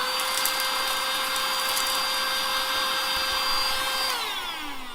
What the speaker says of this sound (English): there's the inevitability that we will suck up Lego pieces like this.